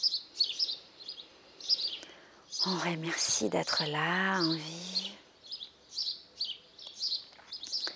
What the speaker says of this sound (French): On entend les bruits des oiseaux.